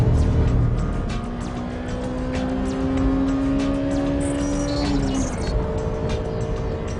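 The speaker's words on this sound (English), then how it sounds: "I'm going full throttle into the S and the spoon corners." Full-throttle engine of a Honda Civic EK9 Type R, heard from inside the car, drones loud and steady with a climbing rev tone before a brief dip and pickup, alongside road and wind noise.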